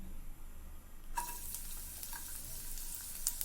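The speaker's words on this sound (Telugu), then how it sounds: "గార్లిక్ వేసుకొని ఫ్రై చేసుకుందాం." Garlic hits hot oil in a kadai about a third of the way in, starting a loud, steady sizzle that crackles continuously to the end after a quieter opening.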